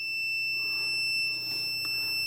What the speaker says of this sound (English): It's now giving me the beep on the white wires.